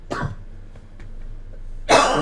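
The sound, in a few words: cough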